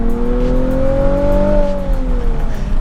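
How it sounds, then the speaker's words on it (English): A Nissan 370Z engine with a silicone intake pipe revs up smoothly, its pitch rising and then easing back down, loud and close with a steady roar. "The engine just seems to rev."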